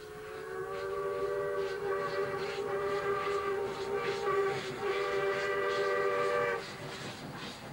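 An R class steam locomotive, Glasgow-built by North British, sounds a long, steady chime whistle of about six seconds, loud and close, before cutting off abruptly.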